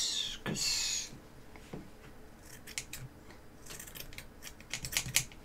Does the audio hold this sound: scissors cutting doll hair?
yes